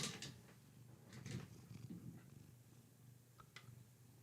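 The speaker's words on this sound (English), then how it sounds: "Yeah, another purry cat. You want to listen?" A soft, low cat purr rumbles steadily up close, quiet and continuous, with a few faint rustles and small bumps.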